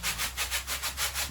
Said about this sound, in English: Then you can use that for sanding.